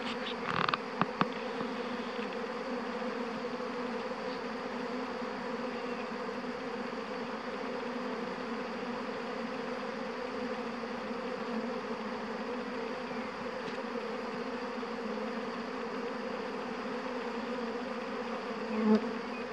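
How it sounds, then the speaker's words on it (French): Dense, steady drone of a honeybee swarm buzzing all around a beekeeper as the bees leave the hive, close and continuous, with brief knocks near the start and no speech. "Je suis entouré d'abeilles. J'ai des abeilles partout autour de moi."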